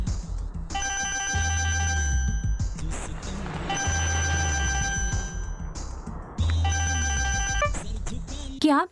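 A telephone rings loudly in repeated long electronic bursts, three rings separated by brief gaps, with a low hum underneath, in a Hindi-dubbed South Indian action film.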